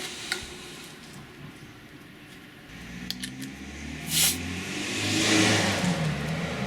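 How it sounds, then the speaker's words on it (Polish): A portable air compressor inflates a Mazda tyre, its motor droning low and steady while a hiss of air swells in the second half of the short stretch, with no voices. "Powiem Wam, że super jest ten kompresor."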